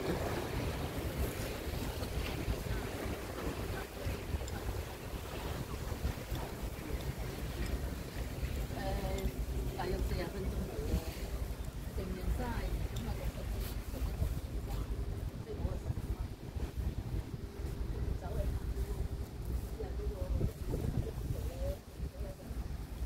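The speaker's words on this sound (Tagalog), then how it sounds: "Alam mo yung mga tunog ng tubig" Water and waves slap and rush against a boat moving across Victoria Harbour in Hong Kong, with steady wind buffeting the microphone throughout and no clear talking.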